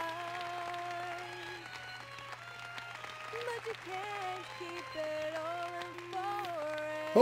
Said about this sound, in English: People are clapping at least.